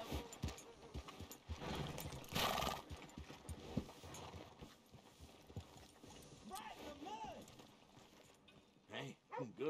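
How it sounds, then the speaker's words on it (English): Horse in the Western game Red Dead Redemption 2, with clip-clopping hooves and snorts amid game ambience, fairly quiet, and a voice speaking briefly near the end. "Hey, good looking horse there."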